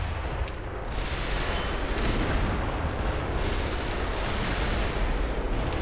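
Heavy explosive blasts and gunfire in the video game Black Mesa, with grenade detonations rolling together into a loud, continuous barrage of booms.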